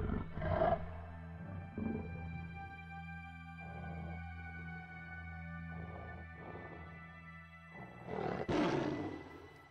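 Forest beasts in the game Children of Silentown let out several deep, drawn-out roars over a low droning background, the loudest bursts coming at the start and near the end.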